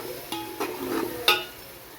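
A big spoon stirs and sautés spices in a pot for dal khichdi, giving a few distinct scraping clinks and taps at a steady pace over a faint background, with no talking.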